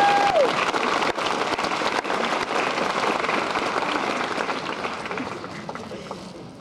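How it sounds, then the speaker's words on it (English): An outdoor crowd at a Desert Storm rally on a town square gives the chaplain a round of applause, dense and sustained, with some cheering, slowly fading out. "the chaplain really deserves a great round of applause"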